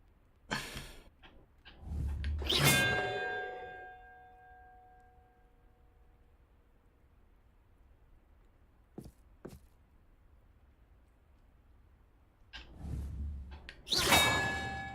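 Bells ring in a video game in two bright clanging bursts, loud and close with long shimmering decay, split by a quiet stretch holding a couple of faint clicks.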